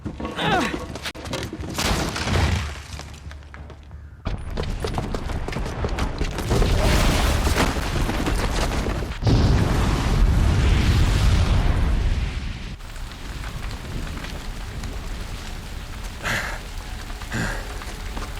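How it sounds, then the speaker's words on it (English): A booby-trapped bomb detonates in Horizon Zero Dawn, a loud sustained roar of blast and rumbling debris that surges and falls in waves over about eighteen seconds, with no voice over it. "the booby trap on the bomb downstairs is gonna get set off"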